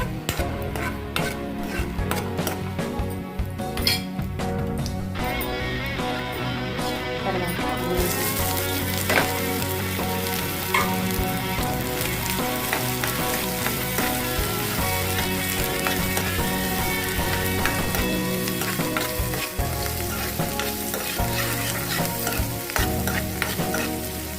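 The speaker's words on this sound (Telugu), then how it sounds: "కొన్ని అయితే ఎండుమిర్చి వేసుకోండి" Dried red chillies fry in hot oil for upma with a loud, steady sizzle. Frequent scraping and stirring of a spatula against the pan continues throughout, with no speech.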